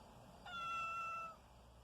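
A cat named Sadie gives a single drawn-out meow, close and fairly clear, standing alone against a quiet room.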